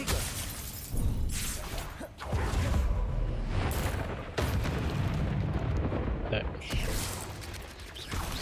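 Bombarda explosion spells cast in the Hogwarts Legacy video game: repeated heavy booming blasts with crackling debris, several loud bursts separated by brief dips, a voice occasionally talking underneath.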